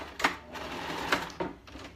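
A sewing machine stitches feathers onto an owl costume, a continuous mechanical whir punctuated by a few sharper clacks of the needle and fabric, close and moderately loud.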